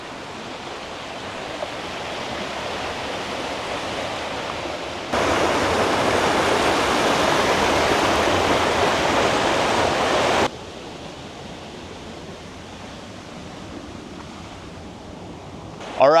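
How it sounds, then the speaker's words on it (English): Small river rapids rushing into a blue-water swimming hole in Costa Rica, a steady broadband wash of flowing water that swells louder through the middle stretch before easing back, with no one talking. "There's some little rapids coming through."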